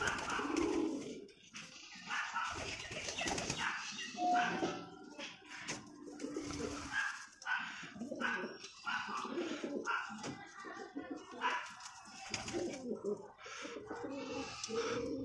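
Pet pigeons at a home loft give soft, repeated cooing calls that come and go, with a person talking nearby throughout.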